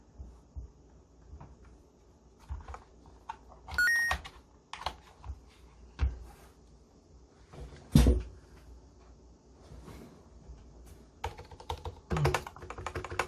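Typing on a Varmilo V87M keyboard fitted with silent black switches: muted, irregular clusters of soft key presses and occasional louder thocks, close and alone.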